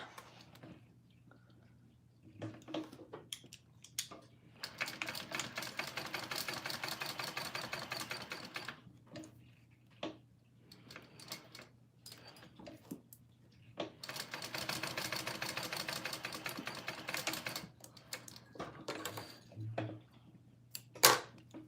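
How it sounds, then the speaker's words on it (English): Sewing machine stitching down the sides of a small Sakura mini pouch, two sustained runs of steady mechanical whirring separated by quieter handling, with a low hum underneath throughout. "I'm going to sew down each side of that."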